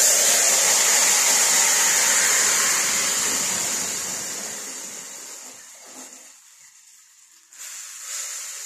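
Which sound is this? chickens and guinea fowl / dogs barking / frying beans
frying beans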